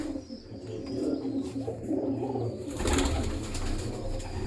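Domestic pigeons cooing inside a breeder's loft, a steady murmur of low throaty calls from several birds close by, with a denser burst of noise partway through.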